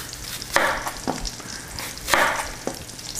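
Pork chop cutlets fry in about a quarter inch of olive oil in a pan, a close, steady sizzle that swells in two louder bursts with sharp crackling pops between, no talk.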